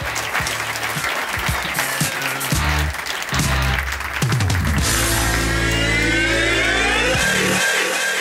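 A live audience in Stuttgart at a tonight-show event applauds loudly and steadily to welcome a DJ, dense clapping throughout, joined by a swelling cheer and crowd noise in the second half.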